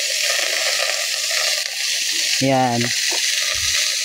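Steady sizzling of adobong sitaw, string beans frying in a pan, a continuous crackling hiss, with a brief spoken word over it.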